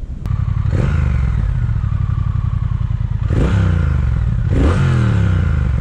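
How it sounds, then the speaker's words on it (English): A Triumph Speed Twin motorcycle's exhaust pops and rumbles up close, with a throaty, pulsing idle broken by three sharp revs that rise and fall. "so I tried to capture that exhaust sound for you"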